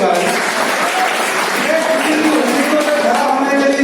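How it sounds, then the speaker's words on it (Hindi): Steady applause from an audience fills a university hall at Sage University Bhopal, dense clapping holding at an even level throughout, with a few voices mixed in. "ताली तो बजाइए एक बार।"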